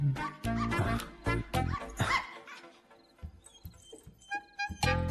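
Jimmy, a pet dog, barks and yips in loud bursts and then whimpers softly in between. The sounds come close and uneven, with brief stretches of quieter whining, and no talk.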